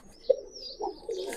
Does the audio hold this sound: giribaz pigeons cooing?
yes